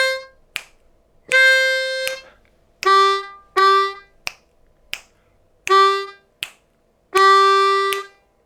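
Bright reedy notes of a blues lick on a C harmonica, played close and alone in short bursts separated by pauses and quick breaths, some notes held longer than others.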